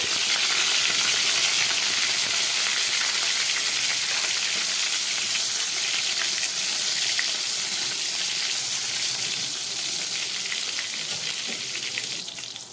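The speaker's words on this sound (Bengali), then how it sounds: "এবার এই তেলের মধ্যে আমি বেগুনগুলোকে ভেজে দিচ্ছি।" Salted eggplant pieces frying in hot mustard oil, a steady loud sizzle and hiss with occasional crackle that carries on without a break and with no talk.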